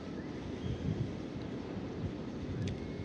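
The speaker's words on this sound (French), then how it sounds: "il y a un petit vent" Light wind buffeting a microphone outdoors, a steady low rumbling whoosh with no speech over it.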